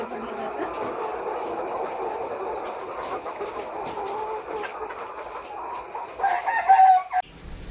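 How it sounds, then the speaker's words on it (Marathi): Chickens in a poultry shed at feeding time, with feed pushed along by a hand-driven feed trolley; dense, steady clucking and crowing sits over a constant mechanical rumble, louder for a moment near the end. "ह्या ट्रेनुसार सर्व कोंबड्यांना खाद्य दिलं जातं."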